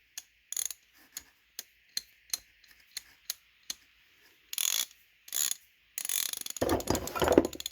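Rebuilt, cleaned and lubed Craftsman ratchet clicking in a dozen sharp, evenly spaced ticks, close up, followed by a few faster bursts of rapid ratcheting.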